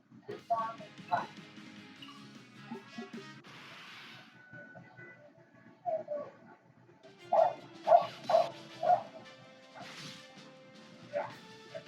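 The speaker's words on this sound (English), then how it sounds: "No, that's my dog in there." A dog barks indoors in a quick run of about four sharp barks, with a few scattered barks before and after, moderately close. People talk throughout.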